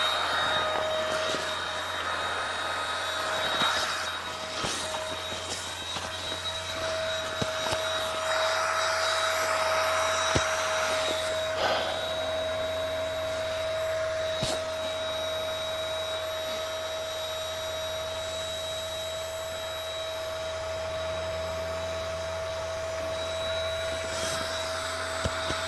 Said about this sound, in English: this thing will inflate itself without needing a big, large, separate air compressor or extra batteries